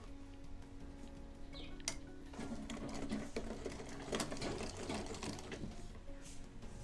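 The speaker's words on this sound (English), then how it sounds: "Let me sew the hand of the bag." A sewing machine stitches a leather handbag handle with a stiffening wire inside. The close mechanical chatter speeds up and slows in short bursts, with sharp ticks and clacks as the needle drives through the leather.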